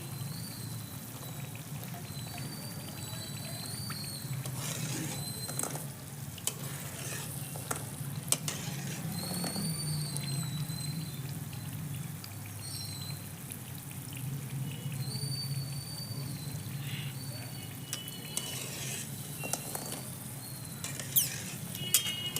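Mathri snacks deep-fry in oil over low heat, a gentle continuous bubbling sizzle with scattered small pops and occasional stirring clinks against the pan.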